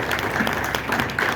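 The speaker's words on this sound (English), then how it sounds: "Let's give her a round of applause." Audience applause at a vintage rockabilly fashion show, a short burst of dense clapping from a crowd, close and continuous with no speech over it.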